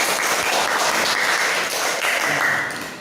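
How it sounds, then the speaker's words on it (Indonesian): Children clapping together in a classroom during a lesson on Surah Al-Fil, a steady dense patter of many small hands lasting throughout and tapering slightly at the end. "tepuk tangan."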